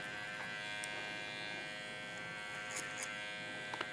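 Electric hair trimmer buzzing steadily during a haircut fade, a close, constant motorized hum with slight changes in pitch as it moves through hair, with no voices.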